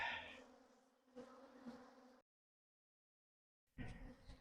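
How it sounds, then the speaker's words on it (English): Agitated honey bees swarm around a hive in autumn, a loud close buzzing drone that breaks off into silence for over a second, then returns just as loud. "Wow. These girls are worked up."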